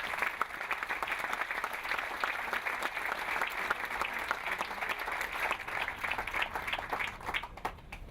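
Audience at a commemoration of the Armenian Genocide in Montebello, California, applauding with a steady, dense patter of many hands throughout, slightly distant and fading a little toward the end.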